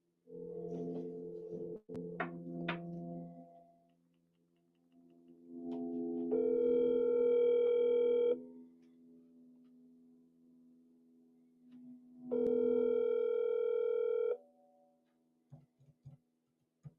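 Telephone ringback tone on a call to a giveaway winner: two long steady ring bursts separated by silence, after a short stretch of muffled handling and background noise and before a few soft clicks.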